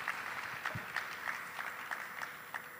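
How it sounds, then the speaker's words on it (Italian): Sparse, faint applause from a small audience at a digital experience festival panel in Turin, a few scattered claps over a hissy room. "farei un applauso per la vostra presenza"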